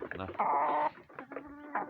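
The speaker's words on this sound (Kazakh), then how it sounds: "Балапандарым туып бастады." Newly hatched chicks peep and chickens cluck close by, in short bursts. One call holds steady and high before softer chirps follow.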